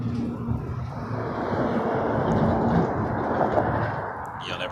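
An Air Canada Airbus A220-300 jet taxis along an airport taxiway at Toronto Pearson, a steady, moderately loud engine roar with broadband rushing noise that holds even and unbroken throughout, with no voices.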